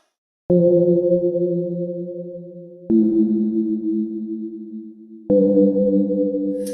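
Three sustained bell-like pad chords synthesized with Ableton's Operator, each struck sharply then ringing out with a long reverberant tail, loud and alone.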